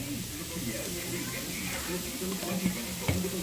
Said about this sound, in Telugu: ఇంకా క్యారెట్ కూడా బాగా ఫ్రై అవుతూ ఉంది.